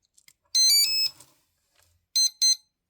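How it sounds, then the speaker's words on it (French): Bright electronic beeps from an electronic speed controller during throttle calibration: a quick rising run of tones, then after a pause two short beeps close together, clean and near. "Maintenant qu'on a eu les deux bips"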